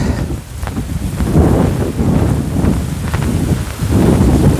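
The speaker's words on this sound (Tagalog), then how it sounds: "Oh yan, mahangin po mga kabayan." Strong gusty wind roars and buffets the microphone continuously, loud and close, with rustling and rumbling surges and no talking.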